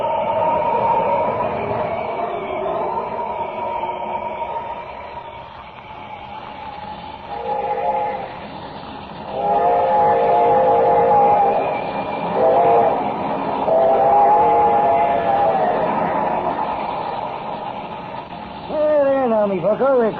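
A train rumbles past with clattering wagons under ongoing voices, and a sliding whistle-like tone rises near the end.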